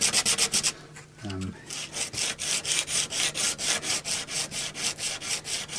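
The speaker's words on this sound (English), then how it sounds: "it's always much better to be able to sand it flat" A guitar nut is sanded flat by hand, with steady, even back-and-forth rubbing strokes in a rhythmic pattern, close and loud, after a brief pause near the start.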